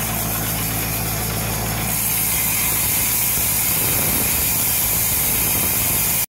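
Reels of a Jacobsen / Toro mower spin steadily during backlapping, giving a loud continuous mechanical whir and hiss with a sustained bright spray-like wash throughout.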